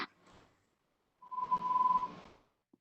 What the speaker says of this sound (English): I'm hearing somebody's phone.